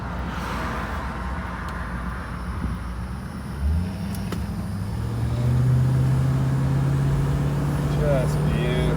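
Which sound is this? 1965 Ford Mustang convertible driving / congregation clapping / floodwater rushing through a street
1965 Ford Mustang convertible driving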